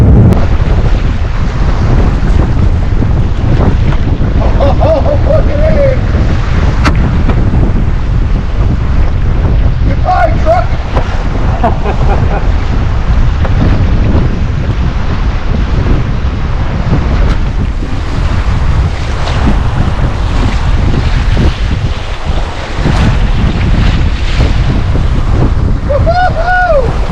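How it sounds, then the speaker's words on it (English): Strong wind buffets the microphone over splashing water and hull noise while a canoe sails along under a breeze, a loud continuous rush with brief faint voice fragments underneath. "Just catching a breeze and cruising along on the water can add a whole new layer of excitement."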